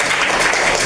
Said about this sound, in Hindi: जोरदार तालियां के लिए भी।